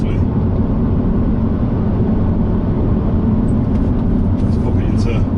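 Steady road and tyre rumble from the rear of a Renault Avantime with a six-speed manual, cruising smoothly, a constant low drone filling the cabin beneath someone talking.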